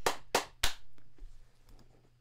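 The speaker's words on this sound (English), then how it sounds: "I'm clapping." Three sharp claps in quick succession from a player at the end of the video game Bad End Theater, close and loud, followed by faint low background sounds.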